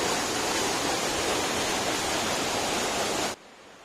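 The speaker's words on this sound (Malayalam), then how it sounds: "വെള്ളം അവിടെ കുത്തി അടിച്ചിട്ട് ഇങ്ങോട്ട് എറിച്ചിലടിക്കുക" Water from a waterfall in the cool Wayanad hills crashes and splashes in a steady, loud, broadband roar that fills the scene, then cuts off abruptly near the end.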